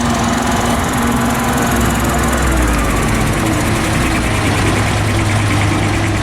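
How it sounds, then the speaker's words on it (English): A Commer three-stroke diesel traction unit on the London to Brighton historic commercial vehicle run pulls away, a loud, continuous, rough engine clatter heard up close, with no voices. "there's another very distinctive sound of that comma three-stroke diesel engine"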